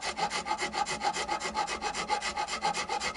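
A file rasps rhythmically across the string slots of a guitar nut on an Ibanez PF100 Les Paul, about a dozen quick, even back-and-forth strokes, close up and alone.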